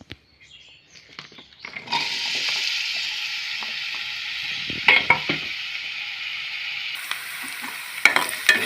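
Chopped onion dropped into hot oil in a kadai for gongura mutton curry, bursting into a steady loud sizzle after a few quiet scrapes, with occasional stirring clatter on top.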